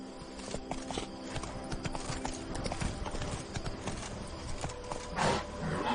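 Horse hooves clip-clop steadily and close by in a rhythmic walking beat, with other noise layered over them and a brief louder burst near the end.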